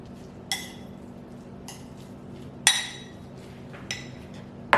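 A utensil scrapes and clinks against a bowl while eggplant and shishito peppers are mixed for a Korean vegetarian dish, with a few sharp, close clatters spaced apart over quiet.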